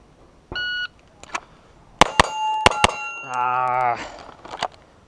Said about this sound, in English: 4 shots on 2 different targets under 2 seconds.